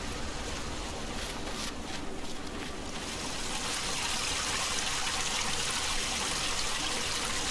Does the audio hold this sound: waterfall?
yes